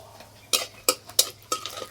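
Broken dried red chillies go into hot mustard oil in a pan, heard as four sharp clinks and sizzling bursts about half a second apart over a quiet hiss, with no talk.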